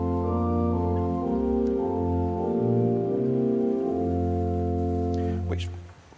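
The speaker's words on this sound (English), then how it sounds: "If I take what's called the tibia rank on the organ," Wurlitzer theatre organ in a museum playing its tibia rank with the tremolant off: smooth, steady sustained chords with a slowly moving bass line, no vibrato, moderately loud, fading at the end.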